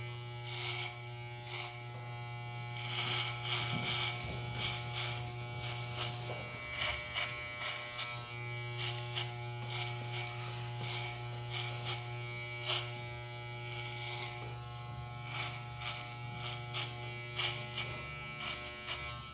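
Electric hair clipper fitted with a number 3 guard buzzing steadily while blending a fade haircut, a close continuous hum with slight variations as it moves through the hair, no talking.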